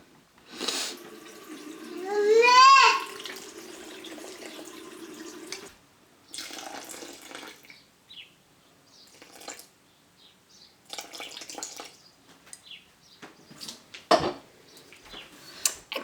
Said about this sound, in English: And then you want to mix in 350 grams of water.